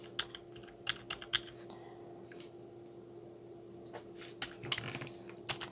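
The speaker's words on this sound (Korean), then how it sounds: "컨트롤 시프트 V를 누르면" Computer keyboard shortcut keys are pressed during video editing. Scattered soft clicks and a few short clustered taps sound close but quiet over a low steady hum, with no voice.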